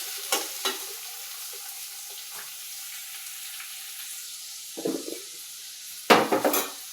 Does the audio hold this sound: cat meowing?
no